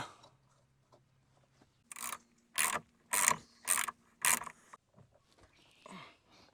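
A ratchet tightens the 19mm steering wheel nut on a 1997-2008 Jeep Wrangler, giving five loud, close bursts of rapid clicking in a regular rhythm, with quiet handling noises before and after.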